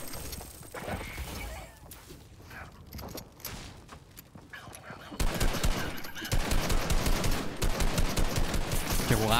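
Rapid Fortnite gunfire, sparse shots at first, then dense sustained automatic bursts, loud and close, with a player talking over the action.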